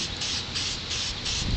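A spray paint can hisses in short bursts onto newspaper, loud and close, with the spray pulsing steadily rather than stopping fully between bursts.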